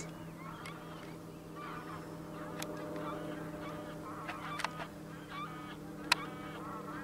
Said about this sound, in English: More ducks.